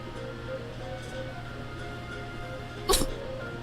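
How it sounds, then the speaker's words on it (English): A pet cat gives one short, sharp sneeze close by, a single abrupt burst against a quiet room hum. "My cat just sneezed."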